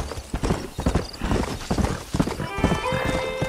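A horse galloping in Red Dead Redemption while climbing: rapid, close hoofbeats in a steady clip-clop rhythm, with a short neigh or whinny near the end.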